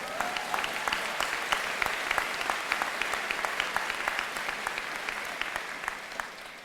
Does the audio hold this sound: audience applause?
yes